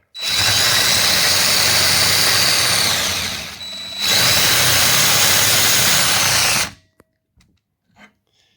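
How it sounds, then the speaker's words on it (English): A power drill drives a countersink bit into screw holes in metal on a pool deck, whirring loudly for about three seconds, dipping briefly, then running again before stopping; faint clicks and handling noises follow. "I will just take my drill"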